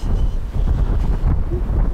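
Strong wind gusts buffet across the high Manpupuner mountain plateau in Komi, a loud, rumbling roar close to the microphone that swells and dips with each gust.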